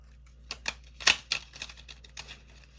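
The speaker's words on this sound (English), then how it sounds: "I'm not doing well at shuffling today." Quick, papery riffling and clicking of tarot cards being shuffled close by, a few irregular bursts over a couple of seconds with no talking.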